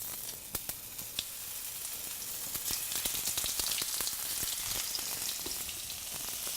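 Chips frying in a shallow layer of rice bran oil: a steady bright sizzle with sharp pops and crackles scattered throughout, close and moderately quiet, with no talking.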